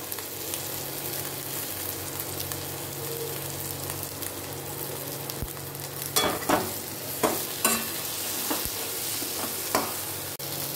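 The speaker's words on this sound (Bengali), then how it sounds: "তো আমার এখানে বেগুনটা মোটামুটি ভাজা হয়ে গেছে, সাতলানো হয়ে গেছে" Cut eggplant and green chillies frying with garlic in a pan for sidol chutney, an even low sizzle, then a cluster of scraping stirs near the end, close and without talk.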